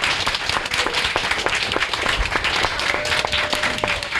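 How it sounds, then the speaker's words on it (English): A convention audience claps for the panel members on stage at a Dragon Con discussion, steady mid-level applause with scattered sharper individual claps and a faint voice underneath. "Hand of applause for my homeboys up here."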